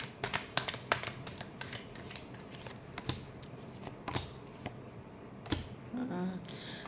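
Tarot cards are shuffled by hand during a reading, a series of crisp, close riffling snaps and soft shuffling rustles at an uneven rhythm, with no talk.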